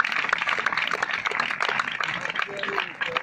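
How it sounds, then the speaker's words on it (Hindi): Loud, dense applause from a crowd at a business gathering, sustained and steady throughout, with cheering voices mixed into the clapping. "बार जोरदार तालियां चाहिए।"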